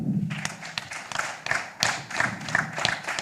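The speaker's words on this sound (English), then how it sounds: "Let's give ourselves a clap." A small group claps in a steady, fairly quick rhythm at an assembly session in Africa, the separate hand strikes moderately close and distinct, with a low hum beneath at the start.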